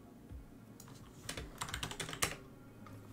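Rapid keystrokes on a computer keyboard while working through a GraphQL hacking challenge, a quiet start giving way to a dense burst of clicky taps in the middle, then trailing off, with no voices.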